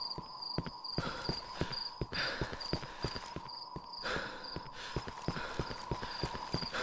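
Horse hooves clip-clop in a steady walking rhythm inside the horror video game Cry of Fear, with a repeating high tone and a neigh. The sound is fairly faint and continuous, with no talk over it.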